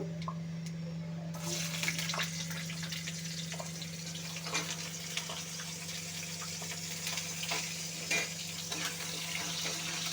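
Cut potatoes fry in a pan for a spinach-stem chorchori, a soft continuous sizzle with faint scraping stirs over a low steady hum, quiet and close.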